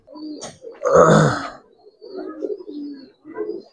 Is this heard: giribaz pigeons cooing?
yes